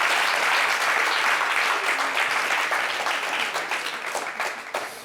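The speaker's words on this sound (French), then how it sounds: "Applaudissez!" Loud, dense applause from an audience at a televised show celebrating a drag queen contest winner, sustained across the whole stretch and tapering slightly toward the end.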